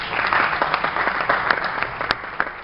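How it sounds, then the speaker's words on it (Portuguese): An audience at a bodybuilding competition applauds with steady, dense clapping throughout the short moment, bright and fairly close. "Uma salva de palmas, Rodrigo aí."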